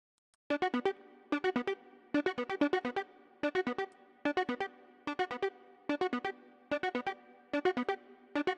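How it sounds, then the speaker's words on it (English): A bright synth arpeggio plays in rapid, evenly spaced groups of plucked notes, repeating in a steady looping pattern with short gaps between bursts. "We've also got an arpeggio, which we haven't used at all yet,"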